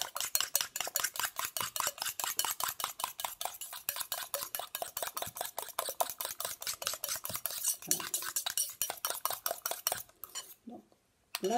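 Homemade serum ingredients being mixed in a container, a fast, steady rhythm of close clinking stirs that goes on for ten seconds before stopping.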